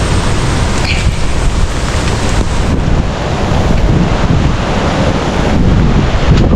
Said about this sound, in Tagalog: panay pa yung bugso-bugsong hangin